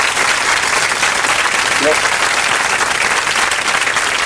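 An audience claps continuously in a dense, loud wash of applause, with a single brief spoken word near the middle.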